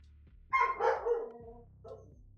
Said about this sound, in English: Oh yeah, we're gonna have some barks.